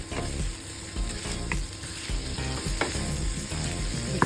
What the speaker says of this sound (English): Next, in the same pan, we saute garlic and onion. And then we add in the beef cubes.